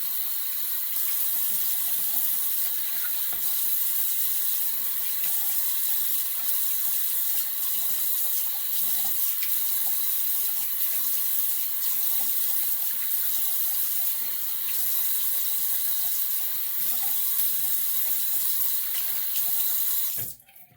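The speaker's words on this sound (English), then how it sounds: "Cold water rinse." Steady running tap water splashing into a sink, continuous and close, with no talking, cutting off abruptly at the end.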